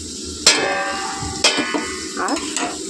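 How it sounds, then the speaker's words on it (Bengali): Taro leaves stir-fry in a pan with a steady sizzle, broken by a few sharp scrapes and knocks of the spatula against the pan. "এখানে কচুর শাক হচ্ছে,"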